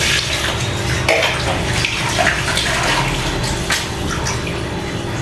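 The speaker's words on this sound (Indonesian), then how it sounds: "Kita cuci lagi, airnya bersih ya kalau bisa." Rice being washed by hand in a bowl of clean water, a steady close sloshing and splashing with small drips and swirls, continuous throughout with no voices.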